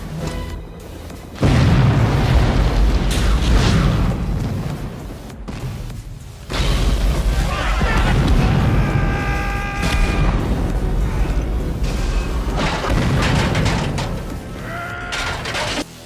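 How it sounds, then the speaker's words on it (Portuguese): A helicopter is blown apart in the 1988 action film Die Hard, heard as loud, sustained booming blasts and rumbling destruction in two long waves with a short gap between, amid a dense roar of debris and score. "a explosão destrói o helicóptero"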